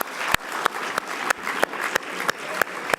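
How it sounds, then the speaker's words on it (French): Students from the École Centrale applaud at an event, with clapping that rises and falls in short swells. Sharp, regular louder claps punctuate it about three times a second. "Vous pouvez vous applaudir"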